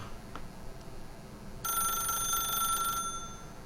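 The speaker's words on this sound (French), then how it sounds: "then pick up the phone" A telephone rings in The Stanley Parable video game, a single sustained electronic bell tone starting partway through and holding for about a second and a half over a quiet room hum, with no talk.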